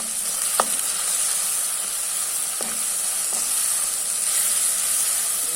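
Pounded cinnamon, cloves and cardamom fry with onions in a pan for Sri Lankan yellow rice, a steady close hiss and sizzle throughout with a few faint stirring clicks.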